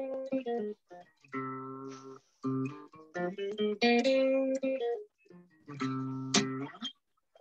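A guitar plays single notes stepping through a scale, some held briefly, others quick, fairly soft and clean with no voices.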